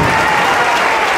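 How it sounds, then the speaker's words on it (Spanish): Loud, dense audience applause at a cultural arts center event, a continuous wash of clapping filling the whole short moment. "Aplauso para la diversidad, claro que sí."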